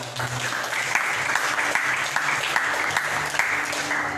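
A church congregation applauds during a worship service, a dense, continuous clatter of many hands filling the room at a steady level, with faint rhythmic accents and low voices beneath.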